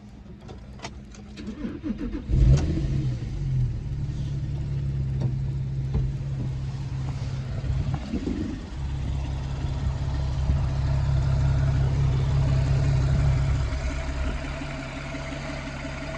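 Porsche 997 Carrera S with its 3.8-litre flat-six catches and starts, then a short blip of revs before it settles into a deep, steady idle that swells slightly, heard up close and alone.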